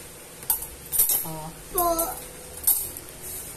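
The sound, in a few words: spoons clinking while washing dishes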